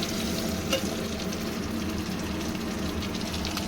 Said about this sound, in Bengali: ডিমগুলো ভাজা হলে নাবিয়ে নেব